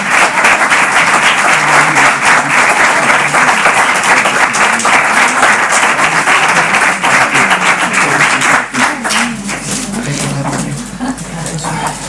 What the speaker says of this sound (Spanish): Sí, y reiteramos el aplauso a Elena por haber compartido su testimonio.